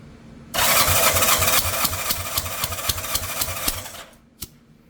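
Engine of a 1987 Yamaha Radian motorcycle cranking on the starter during a compression test, a loud, steady churning whir with rhythmic pulses for about three and a half seconds, then cutting off with a final click.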